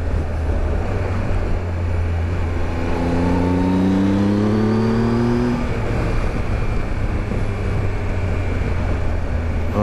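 A 2018 Triumph Tiger 1200 motorcycle engine rises in pitch through several accelerating pulls in sport mode on a coastal road. Steady wind roar runs under the engine throughout.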